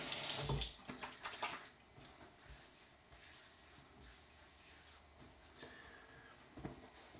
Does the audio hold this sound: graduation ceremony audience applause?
no